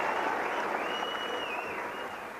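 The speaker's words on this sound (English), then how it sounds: "The crowd still urging on this popular local boy, Garry Clark" A crowd at a 1984 amateur boxing bout in Australia applauds and cheers on a popular local boxer at the bell ending round three, a loud, sustained wash of clapping and noise that eases slightly toward the end.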